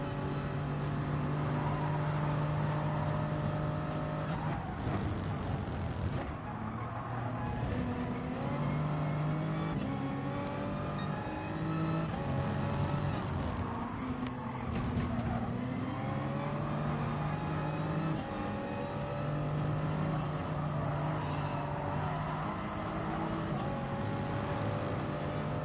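A BMW race car engine in a racing video game, at a Sardegna track in a manufacturer's cup race, revs hard and climbs through the gears, dipping between shifts as it powers out of corners.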